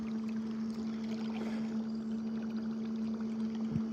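A motorboat on the Allegheny River passes at a distance, its steady low engine hum droning continuously over faint water sounds, with no one speaking.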